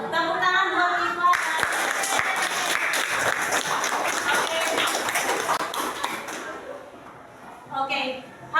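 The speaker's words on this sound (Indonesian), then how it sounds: "Tepuk tangan buat Kifa." Students in a classroom break into a burst of applause that lasts about five seconds and then fades, with voices heard before and after it.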